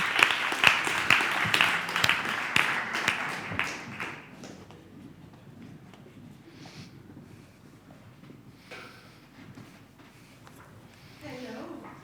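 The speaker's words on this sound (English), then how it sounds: "So please, let's give them a warm round of applause." Audience applause for conference panelists on a festival stage, a dense burst of claps that fades out after about four seconds, leaving quiet room tone with faint talk.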